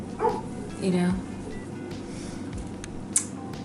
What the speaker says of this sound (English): I have to let my dogs in.